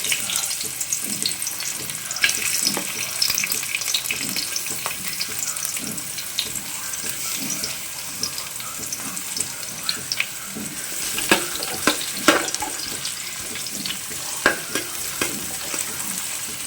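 Onions frying in a pan with oil, a steady broadband sizzle with scattered clicks and scrapes of stirring, close and fairly loud with no talk.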